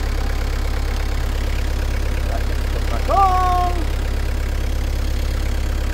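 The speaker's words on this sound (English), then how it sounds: "see, you can hear the engine" Engine idling at a steady, even rumble throughout, close and constant, with a short spoken remark and a brief whistle-like tone partway through.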